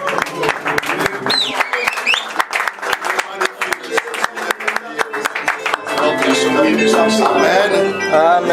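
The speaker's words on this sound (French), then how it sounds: "Acclamons pour la gloire de notre Dieu." A church congregation claps in a steady, rhythmic beat, with loud, sharp hand claps over a busy, crowded background. Voices and music swell in during the second half.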